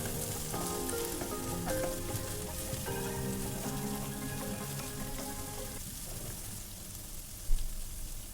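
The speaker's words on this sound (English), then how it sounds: "Now fry the ginger garlic paste for a while until the raw smell and taste goes away" Ginger garlic paste with a green chilli fries in a pan for a spicy Bengali fish curry, giving a close, continuous crackling sizzle with tonal hum in the background and a brief knock near the end.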